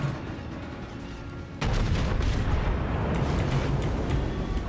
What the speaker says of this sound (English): And now I'm getting hit by the Nagato.